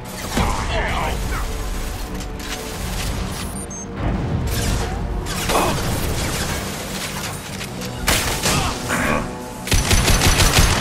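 Heavy gunfire in a sci-fi shooter video game: dense bursts of rapid weapon fire and mechanical clatter, loud and nearly continuous, with sharper volleys near the end and voices in the mix.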